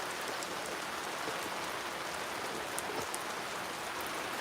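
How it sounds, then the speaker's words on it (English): Rain falls steadily near an RV parked under an awning, a dense even hiss of drops pattering on surfaces with occasional sharper splashes, close and continuous with no talking. "Yeah, it's raining bad too. I'm up under an awning, but you can see my RV starting to get wet."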